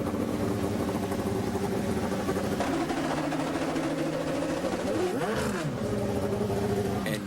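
An Indy 500 race car engine with a suspected clutch fault runs steadily for several seconds, a loud continuous drone with a brief pitch sweep near the end, recorded close with no talk.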